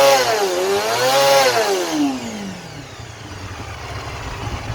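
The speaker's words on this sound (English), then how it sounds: "let's give it some real good RPMs" A 1987 Honda CBR 250R Hurricane MC17 motorcycle engine revs high and screaming, the pitch rising and falling twice, then dropping back to a rough idle close by, with no talking over it.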